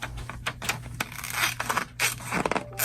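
Scissors snip through a paper square during a glue-book craft session, giving a series of close, crisp cuts and rustles with short pauses between, against a faint steady hum.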